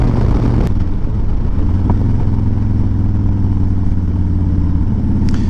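A Harley-Davidson Dyna motorcycle cruising at steady highway speed, its engine a constant loud low drone with wind rush layered over it, unbroken for the whole stretch with no talking.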